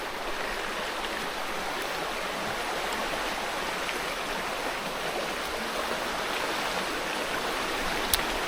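A river in Wales near a glamping site rushes with a steady, dense wash of flowing water, close and continuous for several seconds with no voices.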